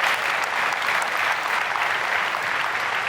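An audience at a Keller Williams real estate conference applauds loudly and steadily, a dense, even wash of clapping from many hands that holds throughout.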